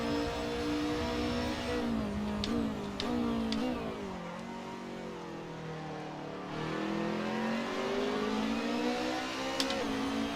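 Touring car engines howl around Sonoma in Assetto Corsa, a near car revving hard and shifting through gears, with pitch rising and dropping as it brakes and accelerates, other cars whining faintly behind.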